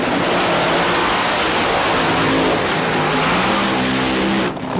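Nitro Thunder drag race cars launch with a dense, deafening engine roar that fills the air steadily for several seconds before cutting off abruptly near the end.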